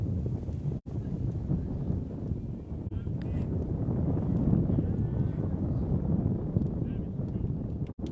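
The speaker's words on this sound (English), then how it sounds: "Wind really starting to pick up here from Satellite." Strong wind buffets the microphone in a continuous low roar at an outdoor youth football game at Satellite Beach, with faint voices beneath the gusts.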